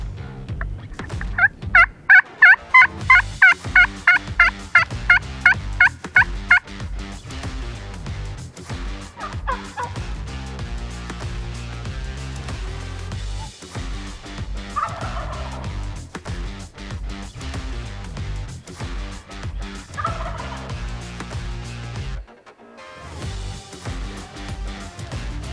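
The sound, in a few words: wild turkeys gobbling in Oregon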